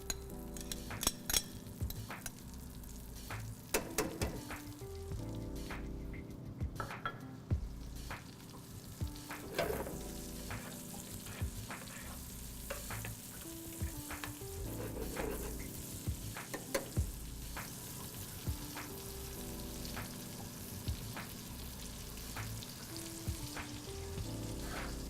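Scallions, garlic and tomatoes fry in a quarter pound of melted butter in a skillet, a steady close sizzle running throughout with scattered clinks and scrapes of a utensil against the pan.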